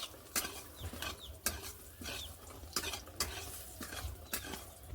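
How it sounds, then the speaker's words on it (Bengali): Bori lentil dumplings frying in oil left from frying fish in a kadai, a steady sizzle broken by regular sharp scraping stirs of a spatula, close and fairly loud. "মাছ ভাজার তেলে বড়িগুলো ভালো করে একটু ভেজে নেব"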